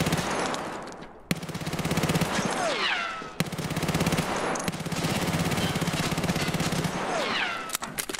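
Rapid automatic gunfire in Escape from Tarkov, a loud sustained burst of shots with a brief pause, then further firing and whizzing sounds, running almost continuously.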